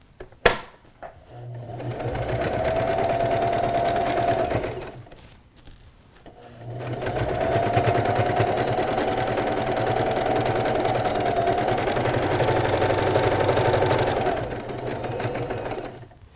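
A sewing machine runs two steady stitching bursts along a bag seam, a loud even whirring hum broken by a short pause, with a sharp click at the start.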